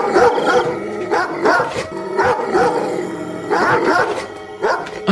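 Several dogs bark and yelp together in repeated bursts, loud and close, a chorus of overlapping barks with brief whimpers between them.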